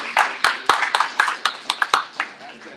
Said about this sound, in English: Can we do a double round of applause because Caesar's actually from Northern California?